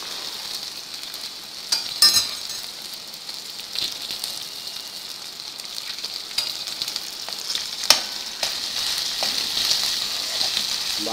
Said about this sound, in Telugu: ఇప్పుడు ఇందులో ఈ దొండకాయ ముక్కలు వేసుకుని